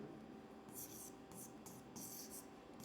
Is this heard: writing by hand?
yes